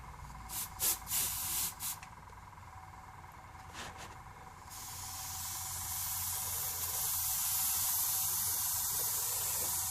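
An airbrush spraying Vallejo Air rust paint onto model tank tracks; a few short soft clicks and puffs come first, then a steady close hiss of spray holds to the end.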